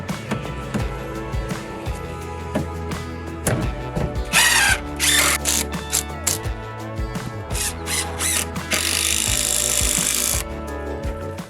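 Power drill driving a screw into a wooden shed kit: repeated whirring bursts of the drill, some short and some longer, with a sustained final run, close and loud, and knocks and rubbing of wood between them.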